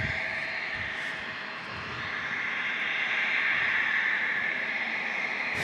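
Jet airliner engines roar at San Diego airport as a Boeing 757-300 and an Airbus A321neo pass, a loud steady broadband rush that swells slightly toward the end, with no voices.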